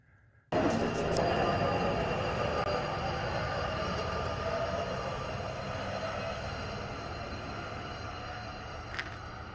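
A CSX freight train rolls past near a tunnel, a loud, sustained rumble of wheels and cars starting abruptly and holding steady, with a faint squeal-like tone near the end.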